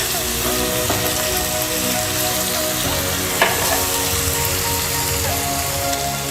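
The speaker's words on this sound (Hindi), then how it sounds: "लहसुन का पेस्ट है, इसको फ्राई करते हैं।" Ginger and garlic paste fries in a pan with a steady, loud, dense sizzle and crackle that runs unbroken throughout, close up with no talk.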